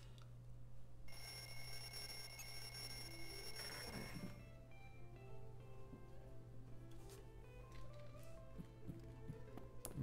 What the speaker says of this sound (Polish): Budzik zadzwonił.